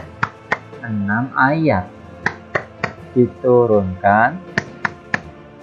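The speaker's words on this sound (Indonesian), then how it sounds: "3 kali ya, tangannya ditepukkan" Sharp hand claps repeated between stretches of a woman's speech in Indonesian, each clap short and crisp, coming in small groups as part of a children's recitation lesson on Surah An-Nas.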